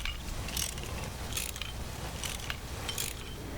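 Mechanical ratcheting and clanking from a wrench repairing a vehicle in Battlefield 1, a steady run of metallic clicks with bright bursts recurring roughly every second, fairly loud and close with no talking.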